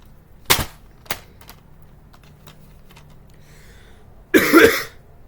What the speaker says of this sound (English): This movie made me cough.